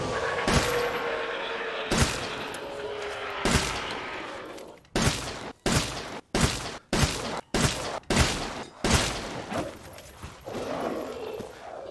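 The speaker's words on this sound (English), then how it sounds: "Alright, so 10 shots from the SIG-12 to take down a large lichen with no parts or upgrades." SIG-12 shotgun blasts in Resident Evil Village as a large lichen is fought, about ten heavy booming shots, a few spaced early then a rapid evenly paced volley, each with a sharp crack and short decay.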